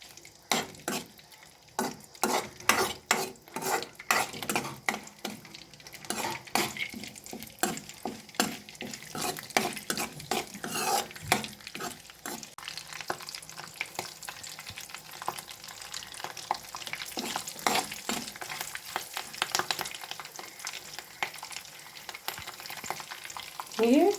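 Sprigs of curry leaves fry in a pan while a taro curry is being made, crackling and popping in quick, irregular bursts with light stirring, fairly quiet throughout.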